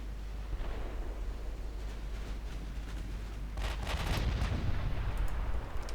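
Battlecruiser guns fire in the naval battle game Ultimate Admiral Dreadnoughts, a faint low rumble of distant booms that grows into a louder cluster of cracking shots in the second half.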